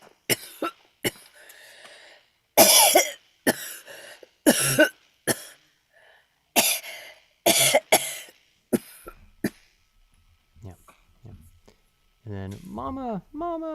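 A voice actor performs coughing for a recording session, a series of loud, close, raspy coughs and throat-clearing bursts separated by short silences, with a little speech near the end.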